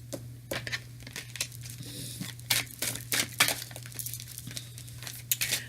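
A deck of cards being shuffled up close: quick papery riffles and soft slaps in irregular bursts over a steady low electrical hum.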